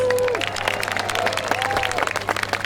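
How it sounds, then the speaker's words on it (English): A crowd applauds jousting competition winners with dense, continuous clapping, a few brief tonal sounds rising above it. "Please give our winners a big round of applause."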